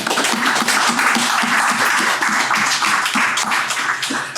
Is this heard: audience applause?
yes